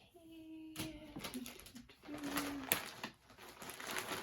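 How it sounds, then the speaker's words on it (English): Pigeon cooing up close indoors, soft repeated low coos with rustling and handling noises around them. "That's Walter the pigeon"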